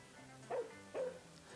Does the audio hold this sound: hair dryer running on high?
no